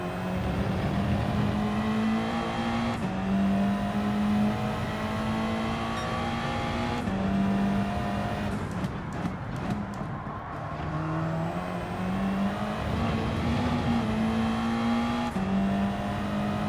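Front-wheel-drive car engine in the Gran Turismo racing game revving hard and steadily, with repeated pitch climbs and drops at gear changes, loud and continuous throughout with no talk.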